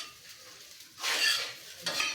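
Egg poriyal with chilli powder and salt being stirred in a pan, a spoon scraping and clinking against metal in bursts, with a light sizzle underneath.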